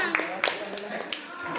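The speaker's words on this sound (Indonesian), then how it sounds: "Tepuk tangan," A few scattered hand claps sound close by in an indoor scene from a Makassar drama film, short and uneven, mixed with talking voices.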